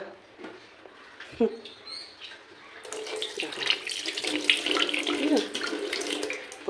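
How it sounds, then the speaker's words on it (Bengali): Water running from a household tap, a steady splashing rush that swells louder partway through, close by, with a voice speaking briefly early on. "প্রত্যেকটা জল কল দিয়ে ভালো ভালো জল পড়ছে"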